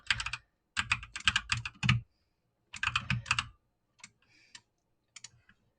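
Bursts of fast clicking on a computer keyboard, close and crisp, in several separate runs with short pauses between them and no voices.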